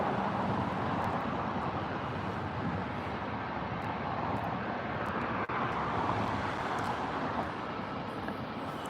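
An Avianca airliner touches down and rolls out along the runway at Gatwick Airport, giving a steady, broad roar of engine and airflow that holds at an even level throughout, with no talk over it.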